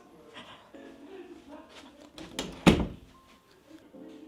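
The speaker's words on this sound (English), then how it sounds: "Let me close the door." A door closes at home in the early morning, ending in a single solid thunk after a short rattle of handling, heard close by while a voice talks quietly around it.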